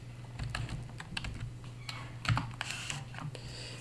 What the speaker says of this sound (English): We want to go into our browser and type in localhost.